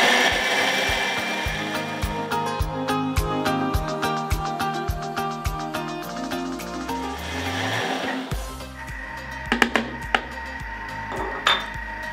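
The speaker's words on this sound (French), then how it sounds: "je vais mettre un petit coup d'accélérateur pour bien mixer les algues" A kitchen blender mixing dulse seaweed for a vegan tarama, with a whirring motor, repeated clattering pulses and shifting pitch, a brief pause, then a few louder thumps and rattles.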